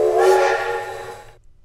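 A train whistle sounds as one sustained, steady tonal blast with a breathy hiss, loud and close, cutting off cleanly after about a second and a half with no voices.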